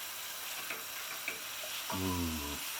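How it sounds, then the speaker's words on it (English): Soya mince fries in a pan while it is stirred, giving a steady, moderate sizzle throughout, with a brief tonal hum rising near the end. "We also want to try and drive off any excess moisture that might be in the soya. Keep it stirring because you don't really want it to stick."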